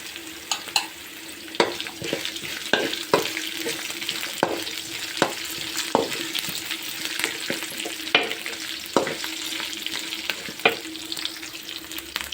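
Cumin and chillies fry in a pan, giving a steady close sizzle broken by a dozen or so sharp stirring clinks and scrapes at irregular intervals, with no one talking.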